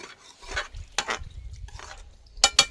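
A spoon scrapes and stirs green chickpea curry (lila chana nu shaak), Surendranagar style, in a pan as garam masala is mixed in, with several irregular scraping strokes and a quick cluster of sharp clinks at the end.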